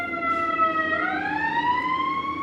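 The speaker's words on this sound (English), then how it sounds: "I'm so tired of these damn ambulances." A loud wailing ambulance siren rises and sweeps in pitch, with layered tones, as it passes close by.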